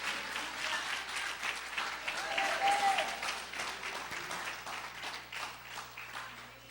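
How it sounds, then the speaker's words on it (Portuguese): A church congregation claps during a sermon, a moderately quiet, steady patter of many hands with a few brief sustained tones mixed in, continuing evenly throughout. "eu daria uma salva de palmas"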